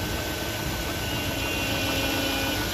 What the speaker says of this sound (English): it's just the sound of the engine